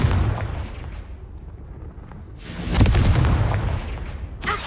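Fire spell explosions in the video game Hogwarts Legacy, two loud booming blasts with rumbling tails, the second stronger, then a sharp burst at the end, close and with no voices.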